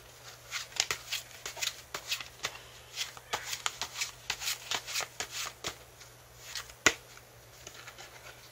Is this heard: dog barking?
no